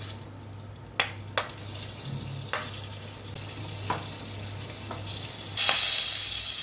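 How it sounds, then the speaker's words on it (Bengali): Four or five green chillies lightly frying in a mustard-poppy paste for shorshe ilish posto, a steady close hiss and sizzle with a few sharp utensil taps, swelling louder near the end, no talking. "আমি অ্যাড করব 4-5টা কাঁচা লঙ্কা দিয়ে এটাকে হালকা একটু ফ্রাই করে নেব।"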